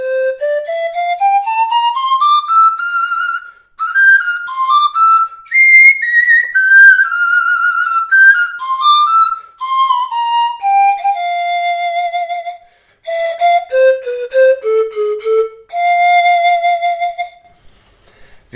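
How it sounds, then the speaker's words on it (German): A breathy, airy flute melody played alone, with clear pitched phrases gliding up and down and brief pauses between runs. "weil die Panflöte sehr gut klingt"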